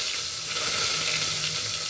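Curry leaves hit hot oil in a pan, a dense, steady crackling sizzle that fills the whole moment, close and fairly loud, with no talking.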